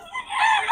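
A stag rooster for sale at a market crows in one short, close, fairly loud burst lasting under a second.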